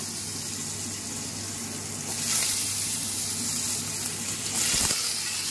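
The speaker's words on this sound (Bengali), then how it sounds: "ফোড়নে আর আলু কেটে রেখে দিয়েছি, ভাজতে দিচ্ছি আলুটা" Cut potatoes frying in oil with whole spices for a vegetable curry, a steady loud sizzle with a brief clatter near the end, close by and with no talking.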